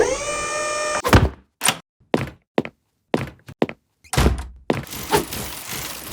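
A magic door of knowledge swings shut with a heavy wooden thunk after a held musical tone, followed by a series of separate knocks and thuds and then a louder closing slam with a rustling tail.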